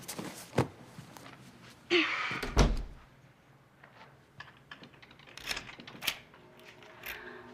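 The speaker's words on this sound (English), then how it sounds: "You locked the door." Door being closed and locked indoors in a TV drama, a sharp slam and thud followed by several small clicks and rattles of the lock and handle, close by, with no talking.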